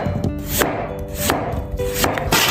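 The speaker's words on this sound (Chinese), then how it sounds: "先把洋芋切成片" Potatoes are sliced with a knife on a cutting board, several close, crisp chops in a quick, fairly even rhythm.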